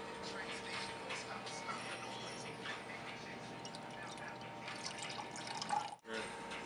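Tap water rinses a pH meter probe at a sink, a steady close splashing hiss with a few drips, cutting off abruptly near the end.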